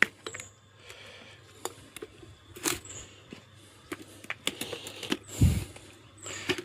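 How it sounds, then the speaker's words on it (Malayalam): Fertilizer solution sprayed from a trigger spray bottle onto a bougainvillea plant, heard as a few short, separated hissing bursts with small clicks between quiet gaps. "ഇതൊന്ന് സ്പ്രേ ചെയ്ത് കൊടുക്കണം."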